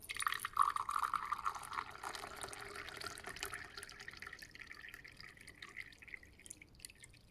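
Water poured from one glass beaker into another, about 126 grams in a lab: a faint, quick splashing trickle at first that fades into soft dribbling and quiet drips.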